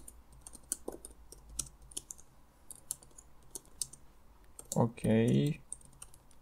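Computer keyboard typing while writing OpenCV C++ code, with steady soft key clicks scattered across the stretch at a moderate pace, close by and fairly quiet, and someone briefly speaking near the end.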